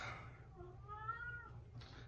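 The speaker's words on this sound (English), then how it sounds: "It's my cat, Christian." An elderly cat gives a single drawn-out meow, moderately faint, over a steady low background hum with no talking.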